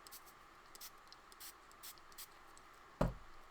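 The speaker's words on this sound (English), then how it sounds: "Just going to spray that with water." A spray bottle gives several short, quiet spritzes of water onto paper in a steady rhythm, followed by a louder knock.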